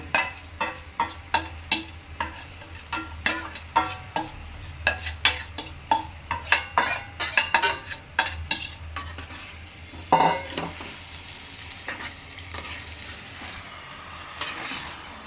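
Chicken pieces stirred in a pot for a double-masala chicken biryani, a spoon scraping and clattering in a steady rhythm of sharp strokes over a low sizzle, close and loud with no talking.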